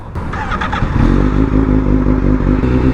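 A motorcycle rumbles loud and close, its engine revving up and holding a steady roar with clattering mechanical texture, with no one talking.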